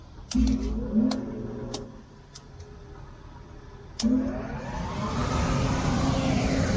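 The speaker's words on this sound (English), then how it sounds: "We're going to come back here, flick this breaker, start the fan up." A Shivvers CompuDry grain dryer fan, with its burner module on, kicks on after a few sharp clicks and thumps, then builds into a loud, steady rushing roar that keeps swelling.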